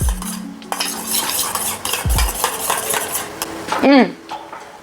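Yogurt mixed with garlic and salt in a bowl, a spoon clinking and scraping against the sides in quick bursts, ending with a louder ringing knock, close by with no talking.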